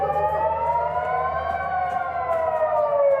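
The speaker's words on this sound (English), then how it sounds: "dawn sirens sending people across Israel's biggest city for bunkers" A wailing air raid siren in Israel at dawn holds a long, loud tone that slowly rises and falls, sounding on its own with no voices.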